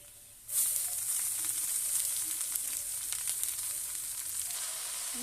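Chopped cauliflower leaves drop into hot oil in a pan, bursting into a loud, sudden sizzle that then settles into a steady frying hiss, with no talking.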